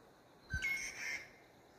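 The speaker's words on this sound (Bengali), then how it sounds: "পাখির আওয়াজ।" A single bird gives a brief whistling call outdoors on a quiet path near flowing water. It rises faintly over a low, steady background hush.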